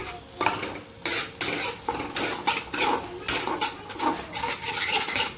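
Goat brain sizzles as it fries in a pan while a utensil scrapes and stirs in repeated short strokes, close up and fairly loud, no talking.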